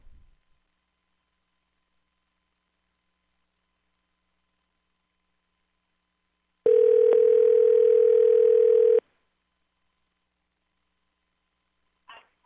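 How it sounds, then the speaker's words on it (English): A telephone dial tone sounds while a call is being dialed, a steady, loud, pure hum that holds for about two seconds in the middle of a long quiet stretch, with a brief faint click at the start and end. "Make sure I don't dial the wrong number."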